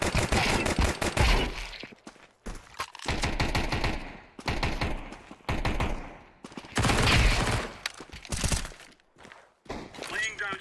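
Gunfire in a video game shooter, a Glock pistol among other weapons, with bursts of rapid loud shots separated by short pauses and someone talking over parts of it.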